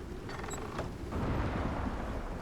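Deep rumbling thunder from lightning strikes during a storm in the survival video game Icarus, a continuous low roll over steady rain-like noise that swells slightly louder midway and carries on to the end.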